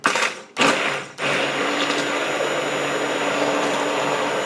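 A loud vacuum roars, cuts out twice in quick bursts, then settles into a steady, continuous whooshing drone close by.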